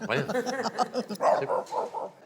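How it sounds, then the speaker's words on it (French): Dog barking in a French TV studio setting, a series of short barks with a small yip, heard alongside people talking, moderately loud and fairly close. "On entend un chien, on ne sait pas d'où il sort."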